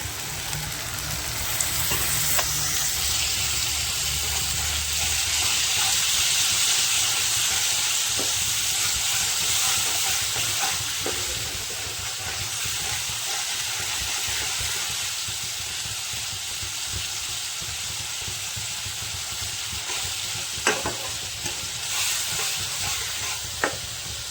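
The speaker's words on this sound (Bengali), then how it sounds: "জিরের গুঁড়ো, অল্প সামান্য ধনের গুঁড়ো দিয়ে অল্প একটু জল দিয়ে আমি ভালো করে মশলাটা কষিয়ে নেব।" Spice paste of cumin and coriander powder with a little water sautéing in a pan, a steady close sizzle and hiss with occasional stirring scrapes and clinks, no voices.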